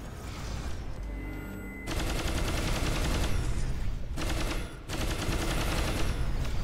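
Rapid, dense video-game gunfire crackles in continuous sustained bursts from a sci-fi shooter, loud and close, with one brief pause midway before the firing resumes.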